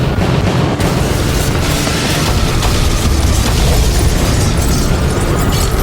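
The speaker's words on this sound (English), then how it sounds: "Every window on the 3rd floor blows out in a magnificent halo of flame." Explosion blowing out every third-floor window of a burning building in a burst of flame: a loud, dense roaring blast that holds steady and unbroken for several seconds.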